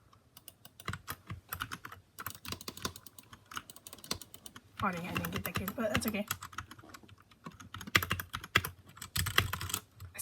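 Rapid, clicky keystrokes on an RK61 Royal Kludge mechanical keyboard come in bursts and flurries, close and fairly quiet, while a person talks briefly in the middle.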